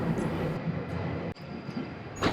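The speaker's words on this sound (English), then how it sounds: "My journey starts on the tube, an essential route for most so-called essential workers." A London Underground tube train running, a loud steady rumbling roar of wheels and carriage with a brief high squeal near the end.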